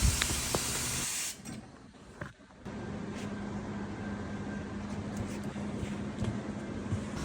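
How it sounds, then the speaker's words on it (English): Air hissing steadily out of a tire with the valve core removed, a broad continuous rush that briefly dips and then carries on evenly, close by with no talk. "Once the valve core stem is out, we let it sit until all the air comes out."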